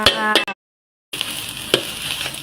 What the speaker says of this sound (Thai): ไปพลิกไปพลิกมาคนไปคนมาจ้ะข้าวผัดข้าวผัดจ้า